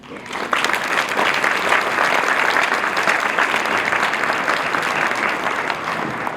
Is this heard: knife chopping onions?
no